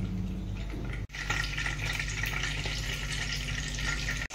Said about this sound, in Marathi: तेल आपलं चांगलं कडकडत तापलं तर आपण कढीपत्ता घालून घेऊया